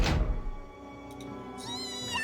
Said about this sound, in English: he's kicking a bar